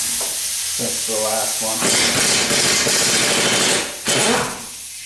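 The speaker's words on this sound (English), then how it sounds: "Today I'm going to use the impact wrench." An impact wrench rattles in bursts, then runs a long steady hammering stretch while taking out trailing arm bolts on a 1976 Corvette. It is loud and close, with a brief pause before a final burst and a voice speaking over it.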